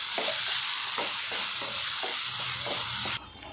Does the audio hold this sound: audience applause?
no